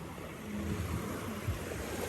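Ocean surf washes onto a Caribbean beach at Sandals Montego Bay, Jamaica, a steady broadband wash of waves mixed with wind noise, moderately near and without voices.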